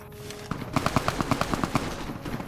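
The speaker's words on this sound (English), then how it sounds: "That's a lot of gunshots." Gunfire in the Fallout: New Vegas video game, a rapid run of about a dozen evenly spaced shots like a burst of automatic fire at moderate distance, set over a steady game ambience.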